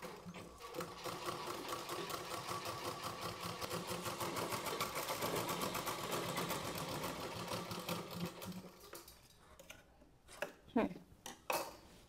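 A sewing machine stitches a blouse with a steady, rapid rhythmic chatter for about eight seconds, then stops, followed by a few scattered clunks and handling knocks nearby.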